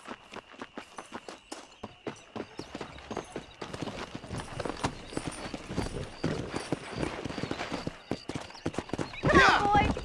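Horse hooves clip-clopping on a trail in the video game Red Dead Redemption, a steady rhythmic walk picking up pace, close and moderately loud with a brief burst of louder sound near the end.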